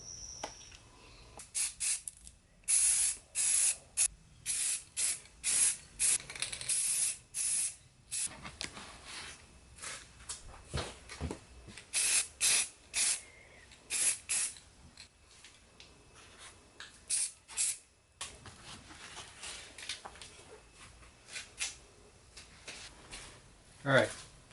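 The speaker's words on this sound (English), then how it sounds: "I'm just going to hit it with spray." Repeated hissing bursts of a spray paint can, short sprays in quick succession with brief pauses between, close and fairly loud.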